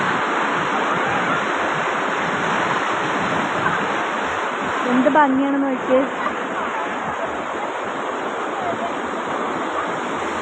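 Continuous rushing of river water flowing, a broad steady wash loud and near throughout, with a person speaking briefly over it midway.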